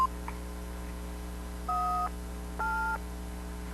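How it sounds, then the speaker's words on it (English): A 1990 home answering machine sounds its beep: two brief, clear electronic tones in quick succession over a low, steady hum. "Please leave a message at the sound of the beep."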